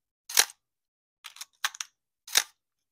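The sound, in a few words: Minolta X-700 SLR camera shutter firing at 1/1000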